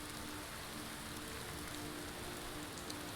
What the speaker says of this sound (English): it's raining here in Helgen